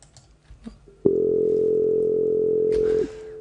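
A single steady synthesizer key note, demonstrating the harmonic series in Goa trance, holds for about two seconds, bright and sustained, then cuts off, following a few faint clicks.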